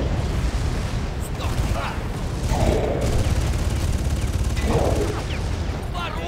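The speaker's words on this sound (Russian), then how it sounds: "Везде все взрывается." Explosions and gunfire from the Far Cry video game fill the scene with a dense, continuous roar of booming blasts and rattling fire, loud and sustained, with a couple of sharper bursts standing out.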